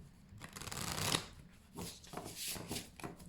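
A deck of tarot cards is shuffled by hand nearby, soft papery riffles and slides coming in a few short bursts over a quiet room.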